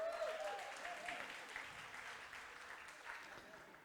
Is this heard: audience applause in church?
yes